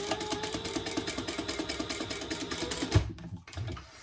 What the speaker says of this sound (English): you're going to sew that together at 1/4